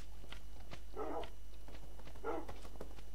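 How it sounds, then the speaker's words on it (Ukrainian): Dogs bark in Minecraft, two short bursts about a second apart over a steady low hum, with light game clicks and steps around them. "Все гавкають."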